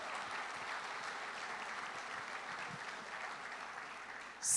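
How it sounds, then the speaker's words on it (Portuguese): A church congregation applauds during a sermon, a soft, even wash of clapping from a distance that holds steady, with a brief louder burst at the very end. "Pode aplaudir que é para o Senhor Jesus."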